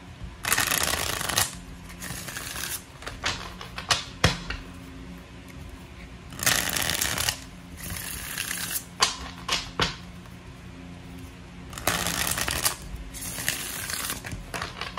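Cards are shuffled repeatedly in crisp, riffling bursts separated by short pauses, close by and fairly loud.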